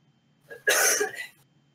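A single short cough, close and fairly loud, preceded by a faint breath, with quiet surroundings.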